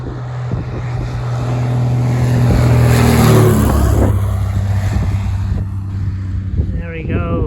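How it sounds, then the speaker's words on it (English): A light plane passes low overhead on its approach to the Rottnest Island runway, its engine drone swelling loud and near, then fading away under steady wind buffeting. "A plane just coming in here."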